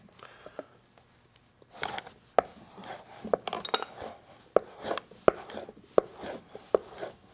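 A hand plane blade bevel is sharpened on a stone in rocking strokes, each pass giving a short scraping rasp in a regular, close rhythm after a quiet start.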